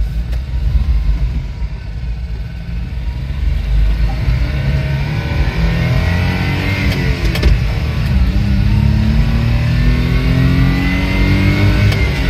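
An old four-speed, two-wheel-drive car pulls away on a test drive, its mid-pitched engine revving up and climbing through the gears in a long, loud, continuous drone heard from inside the cabin, with no talking.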